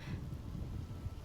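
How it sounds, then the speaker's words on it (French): A thunderstorm in the video game Diablo IV: a low, rolling thunder rumble blends with a steady hiss of rain, heard faintly and without a break. "Alors profitons un instant de l'orage."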